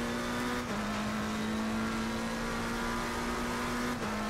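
A GT3 race car in Assetto Corsa Competizione drones along at speed, its engine holding a steady high-pitched note that drops briefly at two gear changes, loud and unbroken, with no talk.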